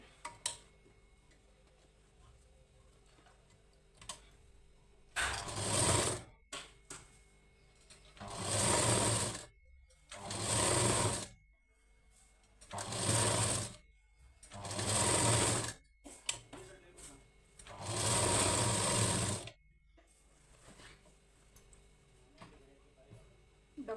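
Sewing machine stitching a lining blouse at the shoulder seam, running in five separate bursts of a few seconds each with quiet pauses between them, close and fairly loud.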